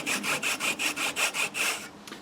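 A saw strokes back and forth through a natural wood stick, about eight quick rasping cuts in a steady rhythm, close and clear, each stroke ending in a short gap before the sawing stops.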